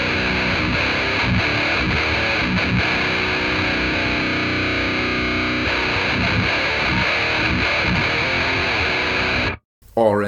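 Heavily distorted electric guitar, a Schecter Hellraiser through a Yamaha mid amp preset, chugging dense riffs loud and continuous, cutting out abruptly near the end.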